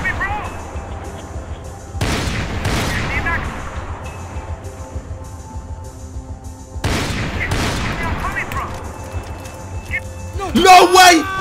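Gunfire in the shooter game Max Payne 3, two loud bursts of rapid shots with ringing decay around a steady background hum, followed by a sharp crackling blast near the end, with talk between.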